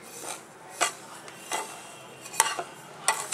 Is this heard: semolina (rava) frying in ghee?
yes